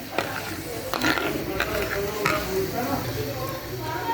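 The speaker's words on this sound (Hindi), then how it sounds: "ये कैरमल बनाना मैंने स्टार्ट कर दिया है।" Caramel cooks in a pan on the stove with a steady low sizzle and the scrape of stirring, close and continuous, for a bread and egg caramel pudding.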